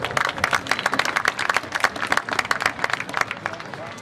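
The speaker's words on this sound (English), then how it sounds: "Please give a round of applause to Bob Campbell." Applause at a drag racing hall of fame ceremony, a crowd clapping steadily and briskly for a few seconds in a large hall, fairly close, with a faint murmur of voices mixed in.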